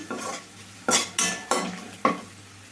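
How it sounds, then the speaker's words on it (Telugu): Chopped onions hitting a hot pan and being stirred, with four or five sharp scraping strokes of a spoon against metal over a low background sizzle. "కట్ చేసి పెట్టుకున్న ఉల్లిపాయ ముక్కల్ని అయితే వేసేసుకుందామండి వేయించుకోవాలండి"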